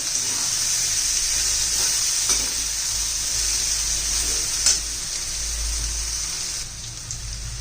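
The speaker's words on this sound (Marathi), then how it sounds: "चांगलंच आपलं परतून झालेलं आहे" Mixed cluster beans, potato and moth bean vegetables sautéing in a pan, a steady, rain-like sizzle with a couple of faint stirring knocks, close and continuous.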